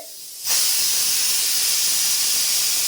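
A pressure cooker on a home stove bursts into a loud, steady hiss of escaping steam after a brief quiet start, close and continuous to the end.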